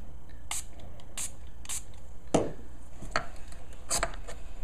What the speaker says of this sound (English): I'm going to use this water bottle and spray this 3 times